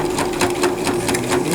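A sewing machine topstitches close by in a fast, steady run of rhythmic stitching that fills the whole moment.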